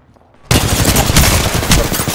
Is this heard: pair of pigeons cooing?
no